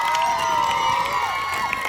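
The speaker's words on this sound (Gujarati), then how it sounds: "તાળીઓના ગડગડાટ છે" Clapping and cheering from children and adults at a prize ceremony for a school cricket match, a lively crowd mix with a high tone running through it.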